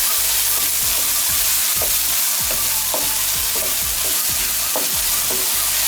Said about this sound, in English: So once your onions are in, just keep the heat low, and then just mix it all around.